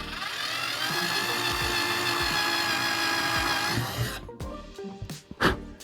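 A cheap Harbor Freight power drill slowly driving a screw into wood in a beginner's toolbox build, a steady whining motor run for about four seconds, then stopping, followed by a few faint clicks and handling knocks.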